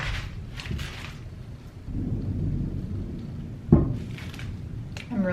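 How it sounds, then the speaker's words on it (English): Thunder rumbles low and heavy through steady rain, with a sharp crack near the end before the roll fades, muffled as if heard from indoors. "I'm really sorry if you guys can hear the thunder outside."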